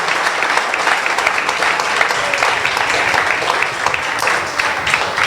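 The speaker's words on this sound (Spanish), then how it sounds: "un fuerte aplauso a Jesús" A church congregation claps loudly and continuously in praise of Jesus, a dense, steady crowd applause filling the space with no talking over it.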